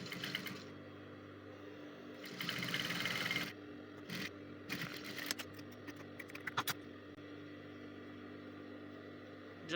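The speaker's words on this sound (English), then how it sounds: "I'll continue sewing." A home sewing machine stitches a blouse from a self-drafted pattern, giving short bursts of fast mechanical whirring with pauses between them, fairly quiet and close.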